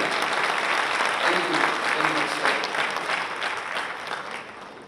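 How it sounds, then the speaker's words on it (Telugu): An audience at a Christmas celebration claps loudly and evenly throughout the moment, with a dense wash of applause and a faint voice underneath. "వారిని అభినందిస్తూ గట్టిగా చప్పట్లు కూడా"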